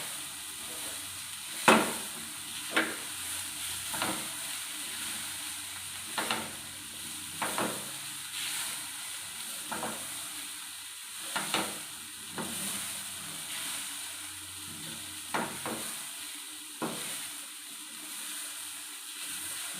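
Cabbage thoran stirred in a pan: a spatula scrapes and taps in about a dozen separate, fairly regular strokes over a steady low sizzle, close by with no voices.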